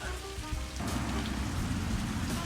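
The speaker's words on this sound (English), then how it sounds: "I'm gonna do an Ido Portal developing leg practice in the rain." Heavy rain pours outdoors in a dense, steady hiss of drops striking surfaces, loud and close throughout, with no voices.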